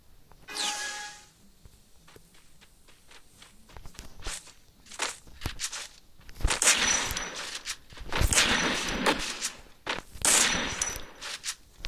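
Automatic gunfire from a player spraying an opponent in the mobile shooter Free Fire, heard as several loud, crackling bursts in the second half, with quieter footstep-like taps between them.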